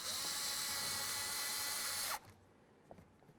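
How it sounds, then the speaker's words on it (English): A power tool drives window regulator bolts into the door of a 1998-2011 Ford Ranger: a steady, close, loud whir that cuts off sharply after about two seconds, then a few small metallic clicks. "Now let's start screwing this in."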